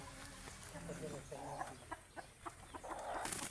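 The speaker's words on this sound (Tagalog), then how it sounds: "Kalat ang mga manok dito." Free-roaming chickens cluck intermittently at a moderate distance in a yard among taro plants, short clucks and calls over a steady outdoor background, with people talking at times.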